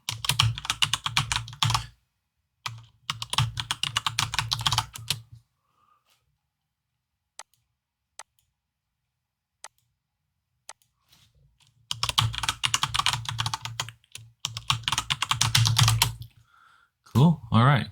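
Bursts of fast computer keyboard typing, loud and close, fill the opening and closing stretches, separated by a long quiet gap with a few isolated key taps; a voice speaks briefly at the very end.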